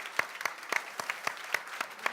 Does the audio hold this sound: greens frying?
no